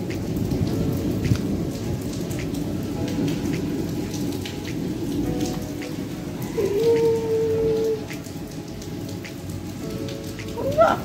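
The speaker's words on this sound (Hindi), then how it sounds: "बारिश अब तेज़ हो गई" Steady heavy rain pours down continuously, with a rumble of thunder and a faint bird chirp in the background.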